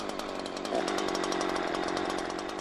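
A chainsaw idles and revs steadily at close range, its buzzing two-stroke engine rising slightly partway through and then holding a rough, even drone.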